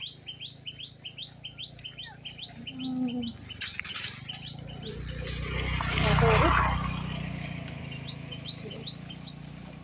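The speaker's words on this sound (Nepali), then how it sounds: "चराचुरुङ्गीको आवाज सुन्नु भएको छ" Repeated high, quick bird chirps in short bursts, fairly close, with a passing rumble like a vehicle swelling in the middle and faint background noise.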